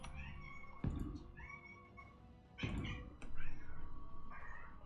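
A pet cat named Marvin meows several times close by, short rising calls spaced a second or two apart over a quiet indoor background.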